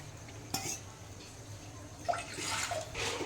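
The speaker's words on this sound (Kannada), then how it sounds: "ಈಗ ಈ ಗ್ಲಾಸಲ್ಲೇ ನಾನು 2 ಗ್ಲಾಸಷ್ಟು ನೀರು ಹಾಕ್ತೀನಿ." Water poured from a glass into a pot on a gas stove while making jowar flour kadubu, starting with a brief clink and then a steady splashing pour through the second half, with no talking.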